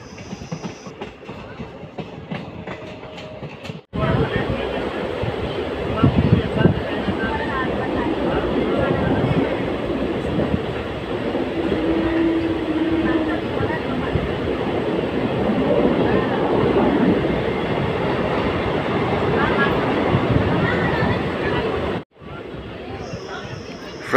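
A passenger train running between Hospete and Davanagere rolls into Mariyammanahalli railway station. Clattering wheels and a steady rumble fill the carriage for about twenty seconds, loud and close, with murmuring voices in the background.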